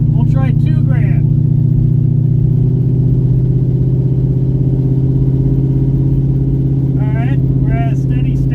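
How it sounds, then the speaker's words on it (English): A car engine is held at about 2000 RPM, giving a loud, steady, close droning hum throughout. Someone talks over it at the start and again near the end. "At 2 grand, the RPM flings up, but it's not pushing me back."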